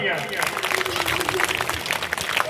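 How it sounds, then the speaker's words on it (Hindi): An audience claps for young children performing a school drama, dense mixed clapping under and alongside a voice speaking, moderately loud and continuous throughout. "एक बार जोरदार तालियां।"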